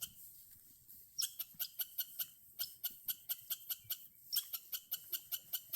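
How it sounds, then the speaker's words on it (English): A loud bird calls from close by on a sheep farm, giving a long series of sharp, evenly spaced chirping notes in bursts that repeat steadily, with only faint background sound underneath. "It's a loud bird."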